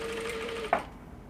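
A sewing machine runs briefly as net is stitched onto an opened seam allowance, a faint steady whir that ends with a short click before quiet room tone.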